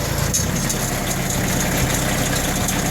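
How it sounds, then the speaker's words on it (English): A Woodmaxx WM-8600 backhoe engine idles at about 1500 RPM, giving a steady, loud, continuous drone with a low rumble and constant vibration and no breaks or voices. "even with it just at an idle at about 1500 RPMs, still good to go"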